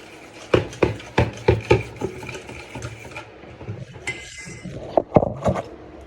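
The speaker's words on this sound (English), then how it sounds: "we are not just mixing our ingredients, but we are doing a process called creaming the wet mix." A wet cake batter for an eggless vanilla sponge is creamed in a bowl, with repeated sharp clinks and knocks of the utensil against the bowl in an irregular rhythm, close and clear, and no talking.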